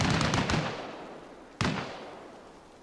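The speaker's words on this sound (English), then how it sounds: "That sounds like a mounted gun." Mounted gun fire in Arma Reforger, two heavy booming shots about a second and a half apart, each with a long rolling decay, fairly distant and alone.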